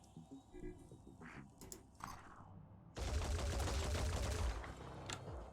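Burst of gunfire in a shooting video game, a loud sustained volley of rapid shots that jumps in abruptly after quieter game sounds and runs steadily for several seconds.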